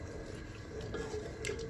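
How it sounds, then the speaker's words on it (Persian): Water from a glass pours into a cooking pot over low heat while lakhchak is being made, a faint, brief trickle and splash. "حالا یک گلاس آب اضافه میکنم و در حرارت کم مدت دو دقیقه میمانم"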